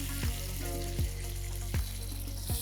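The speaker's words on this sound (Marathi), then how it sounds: "आता आपण ह्यात हे पाणी घालूया" Sautéed mutton masala for a Marathwada-style kanduri curry sizzles in the pot as water goes in, a steady hiss and crackle broken by a few sharp spatter bursts at regular intervals, close and without speech.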